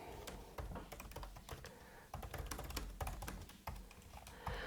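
Typing on a computer keyboard, quick irregular bursts of close, crisp key clicks with brief pauses between runs, fairly quiet and heard alone without talk.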